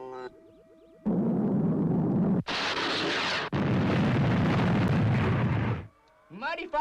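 A missile blast explosion in a space patrol show erupts in a long, loud roaring burst, cut briefly mid-way, then trailing off into quieter sounds at the end.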